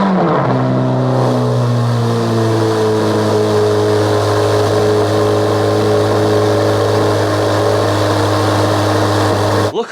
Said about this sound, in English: ready for a 1 week cold start.